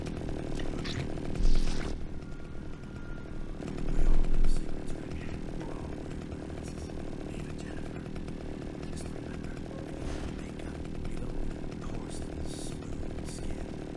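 A chainsaw weapon roars continuously in Splatterhouse, a dense, buzzing engine drone with a few louder revving surges, close and loud throughout.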